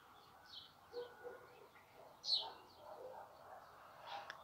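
Sparrows nesting in a corner under a roof give faint, scattered chirps and short tweets from a little distance over quiet outdoor background, with a slightly louder call in the middle.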